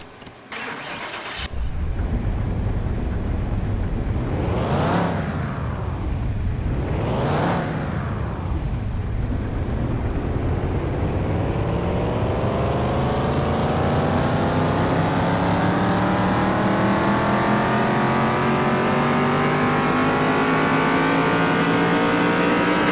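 A 1957 pickup truck engine rated at 361 horsepower is revved on a dynamometer: a loud roar that climbs, falls, climbs and falls again, then sweeps up in one long, steady pull to a sustained high-rev howl.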